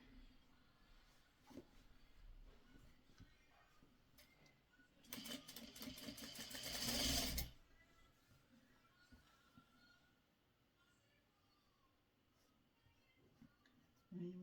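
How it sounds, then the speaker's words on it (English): Sewing machine stitching pre-cut quilt fabric pieces for a Christmas tree quilt, a short burst of fast mechanical whirring for about two seconds, clear and close, with quiet room sound before and after. "put it across here, and then we're going to sew"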